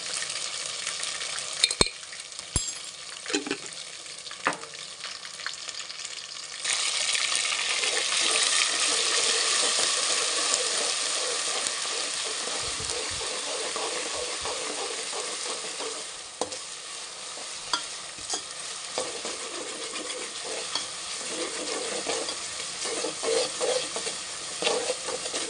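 Ginger paste sizzles and fries in a pan while a spoon stirs and scrapes through it. A steady hiss is broken by scattered clinks and scraping knocks throughout.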